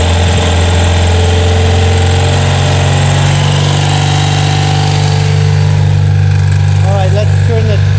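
A BMW R90/6 motorcycle engine idles with the choke on, a loud steady low throb with constant rhythmic pulsing close by for the whole stretch, with faint voice-like sounds near the end.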